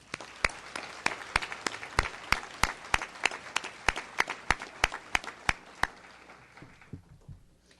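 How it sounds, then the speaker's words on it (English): Audience at a teacher-of-the-year ceremony applauding the sponsors, a steady round of clapping with sharp individual claps standing out in a regular rhythm, then fading into quiet room tone near the end. "I ask that you join me in a round of applause to recognize the support of all of our"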